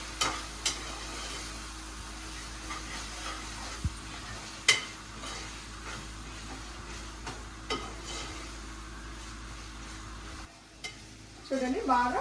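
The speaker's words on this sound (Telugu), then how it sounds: "ఫ్రై అయిపోయాయి కదా మనం తీసుకున్న టమోటా ఉల్లిపాయ" Tomato and onion fry in a pan while being stirred, a soft steady sizzle under occasional clinks and scrapes of a utensil against the pan, with louder clattering near the end.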